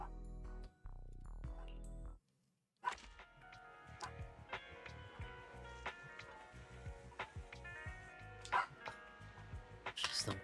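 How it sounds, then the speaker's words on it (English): A dog barks repeatedly indoors, sharp yaps scattered over a clattering background with brief whimpers, fairly close and moderately loud, while speech runs in the background. "She's not gonna stop barking."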